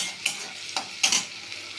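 Spice paste with soy-based sauce stir-fried in a pan for chilli, a soft continuous sizzle with three distinct scraping strokes of a spatula.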